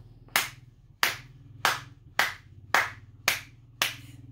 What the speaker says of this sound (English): All the people stood up, clapping louder and louder.